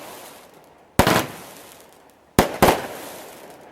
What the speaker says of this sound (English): Nearly got killed by a couple of fireworks